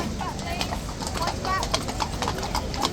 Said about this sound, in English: I'm kind of happy that we do have the police horses coming through